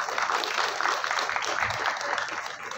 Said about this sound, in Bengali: সবার জন্য আবার একটু জোরে একটা হাততালি প্লিজ।